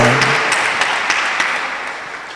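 A church congregation applauding and cheering, steady dense clapping with a few sharper claps, fairly loud and close, fading slightly toward the end.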